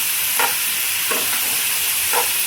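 Raw banana pieces being stirred in a frying pan, with three separate scraping strokes spaced about a second apart over a steady, soft sizzle. No one speaks.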